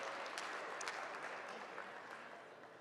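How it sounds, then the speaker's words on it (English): Steady audience applause in a conference hall as a prize winner walks up, a broad wash of many hands clapping at moderate distance, fading slightly toward the end. "Big round of applause to Donovan as he makes his way up for his Beats headphones."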